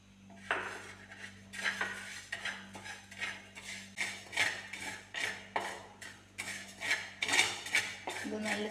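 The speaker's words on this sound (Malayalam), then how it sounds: "പച്ചരി കഴുകി ഉണക്കിയെടുത്തതാണ് ഞാനിത്. ഇത് നമുക്കിതിൽ കുറച്ച് ഇട്ടിട്ട് വറുത്തെടുക്കാം." Washed and dried raw rice roasting in a pan, stirred with rhythmic scraping strokes and grain rattles at regular intervals, close and fairly quiet, over a low steady hum.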